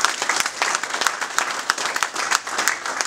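A church congregation at a Sunday service applauds together, a dense sustained wash of clapping with scattered sharper claps standing out, steady and fairly loud for the whole stretch.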